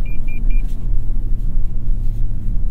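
Toyota Tundra TRD Pro pickup, 2022 model, driving off-road with a steady low engine rumble and drivetrain drone inside the cab, preceded by three short electronic beeps, moderately loud and continuous with no talking.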